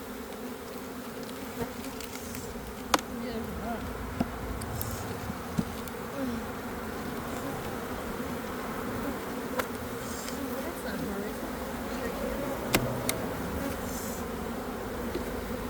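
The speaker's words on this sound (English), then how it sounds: "Wow, look at all the bees." Dense, steady buzzing of a swarm of bees around an open hive box being split, close and continuous with a few sharp knocks and faint background sounds.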